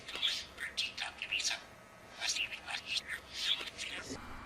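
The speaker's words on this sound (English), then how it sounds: "Simon and Lucky, the female red-winged blackbird that we have, are having a playtime and chasing each other around." Pet birds, including a female red-winged blackbird, chirp in quick high bursts while playing and chasing each other, the calls coming in irregular clusters close by.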